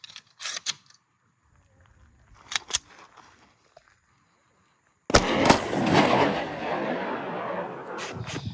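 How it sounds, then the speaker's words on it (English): Tokarev TT M57 pistol shots fired into a vest: a couple of sharp, spaced cracks, then one loud blast about halfway through followed by a long burst of lingering noise. "we'll see what this does if we shoot a few more times"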